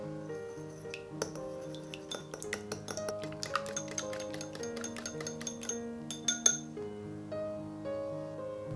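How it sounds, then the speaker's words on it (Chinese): An egg being beaten in a bowl for red bean paste bread, a quick run of light clinking taps of utensil against the bowl, clustered and uneven, over a background of sustained musical tones; no speech. "先来准备一个鸡蛋，打散备用。"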